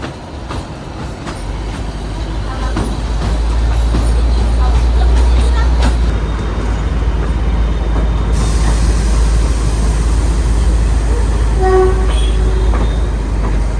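A heavy, rumbling narrow gauge train engine on the Bilimora–Waghai line chugs steadily throughout, tractor-like, with rail clatter and occasional higher squeaks and whines over the constant low drone.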